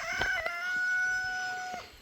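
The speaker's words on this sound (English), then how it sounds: "Thanks, Rooster." A rooster crows once in a long, sustained call that holds steady before cutting off, fairly close and clear against a quiet background.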